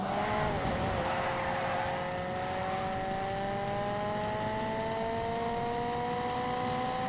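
A car driving in The Grand Tour video game, engine tone rising steadily in pitch as it accelerates through the gears, a brief tyre squeal near the start, with constant road noise throughout.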